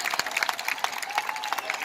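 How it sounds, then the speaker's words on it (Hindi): Hearty audience applause at a Hindi comedy poetry gathering, dense steady clapping from a crowd throughout the short stretch. "एक बार भरपूर तालियां बजाइए"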